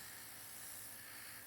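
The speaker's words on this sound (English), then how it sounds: "The thing that really makes this the air nails spray out" An airbrush nail sprayer fitted with a diffuser releases a steady, soft continuous hiss of air and paint mist, close and unbroken, with no voices.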